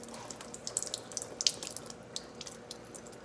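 Tap water runs over a paint brush to wet it before cleaning, a soft steady splashing with brief brighter spatters and drips, close by and without voices.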